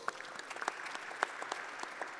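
Audience applause closing a Polish esports panel discussion at a startup conference, a steady patter of clapping from a crowd in a hall, moderately loud and continuous with a few sharper claps standing out.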